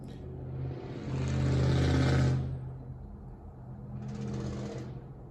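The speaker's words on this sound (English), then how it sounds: "that was a loud truck" A loud truck drives past, its engine rumble swelling to a peak and then fading, followed by a softer second pass. No one speaks.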